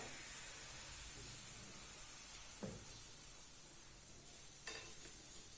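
Pancake batter hits a lightly oiled frying pan and sets off a steady, bright sizzle that holds throughout, with a couple of small clicks along the way and no talking.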